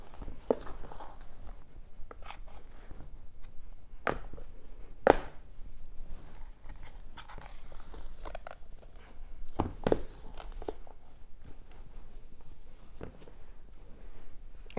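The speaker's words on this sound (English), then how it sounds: "I'm gonna use the dough scraper to get in here so I can get in on the angle and take this bit" A dough scraper cutting through pizza dough on a countertop, scattered sharp taps and scrapes against the surface at irregular intervals, fairly quiet and close, with no talking.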